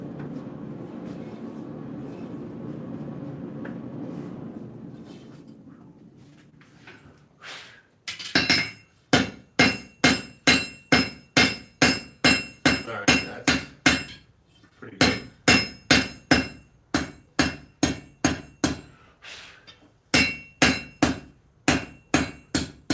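Hand forging steel for a Bowie knife: after a few seconds of low workshop rumble, a hammer rings on the metal in steady, sharp, evenly spaced blows. The strikes come in bursts separated by brief pauses and stand loud and close.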